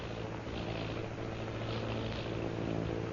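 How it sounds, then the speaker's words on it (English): Airplane flying overhead in a 1936 jungle adventure radio drama, a steady loud propeller drone with low engine hum filling the whole stretch, no voices. "Sounding like airplane."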